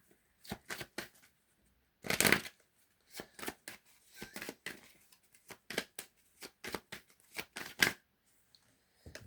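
A deck of tarot-style cards being cut and shuffled by hand: a series of quick riffling, snapping bursts in irregular rhythm with short pauses between them, close and fairly quiet, with one longer riffle near the start.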